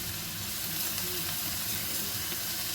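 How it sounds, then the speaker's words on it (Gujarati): Garlic ginger paste sizzles steadily in a hot pan with vegetables for restaurant-style hakka noodles, a continuous close frying hiss with no talking. "હવે આપણે આમાં એડ કરીશું લસણ અને આદુની પેસ્ટ."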